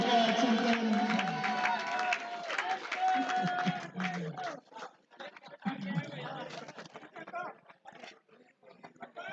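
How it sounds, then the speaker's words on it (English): Spectators at a cricket tournament match cheer and call out in a lively outdoor crowd, loud at first and then thinning into scattered shouts and bursts of noise. "getting some lovely cheer from the spectators"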